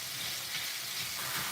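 Shrimp and vegetables frying in a pan for fried rice, a dense, even sizzle with a hissing, rain-like texture, close and continuous through the short moment with no talk.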